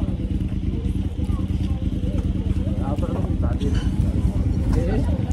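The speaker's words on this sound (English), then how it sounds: "the local bikers, they're in town tonight. And it looks as though that they're revving up and they're just about to go." Local bikers' motorcycle engines rumble and rev together in a town street at night, a loud, steady low growl with fluctuating throttle blips close by, while voices murmur in the background.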